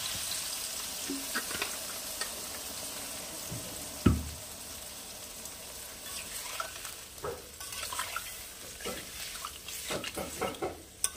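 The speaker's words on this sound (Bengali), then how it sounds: "এবারে দিয়ে দেবো পরিমাণ মতো জল, সামান্য, বেশি না।" A little water poured into a sizzling pan of Bengali non-veg ghonto, a low sizzle with stirring scrapes and a sharp clatter partway through, followed by scattered ticks and clinks.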